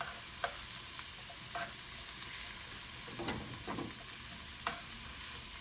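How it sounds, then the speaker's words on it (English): Peppers are stirred in a hot pan for orzo risotto. A soft, steady sizzle runs throughout, broken by a few light scrapes and clinks of a utensil against the pan. "And once again, we stir."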